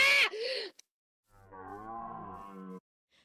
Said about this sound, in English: Also, deer are really loud for some reason.